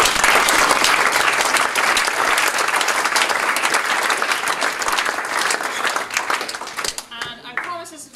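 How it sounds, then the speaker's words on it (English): Enthusiastic audience applause fills a badminton coaching conference hall, loud continuous clapping from many hands that thins out near the end as voices start to come through. "I think a round of applause for them would be"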